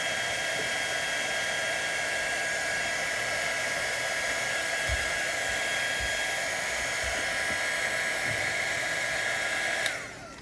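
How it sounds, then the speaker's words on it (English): A hair dryer runs steadily for about ten seconds, drying ink on a card during a papercraft session, with a constant loud whir and faint handling bumps, then cuts off abruptly near the end. "I bet our ink is drying nicely. Okay, we'll save that and dry this off."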